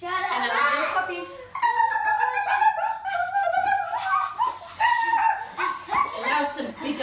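Children imitate puppies with high, yipping barks and whimpers during a kids' yoga session, several small voices overlapping in quick bursts close by, mixed with other vocal sounds.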